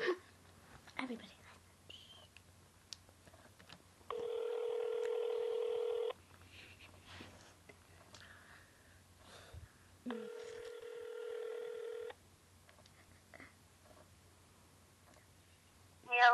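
A telephone being dialed for a call: two long, steady dial-tone beeps about two seconds each sound clearly apart, with faint whispering and quiet speech between them.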